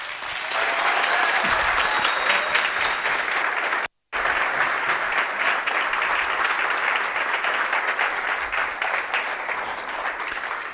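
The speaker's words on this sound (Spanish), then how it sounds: "Un fuerte aplauso" Steady, dense applause from a conference audience welcoming a speaker to the stage, loud and continuous for about ten seconds with one brief dropout near the middle.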